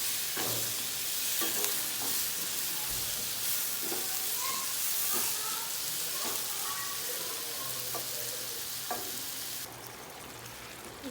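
Tomatoes frying in masala for a dhaba-style bhindi dish are stirred in a pan, giving a steady hiss and sizzle broken by regular scraping strokes of the spoon. The sound is close and continuous, with no talking.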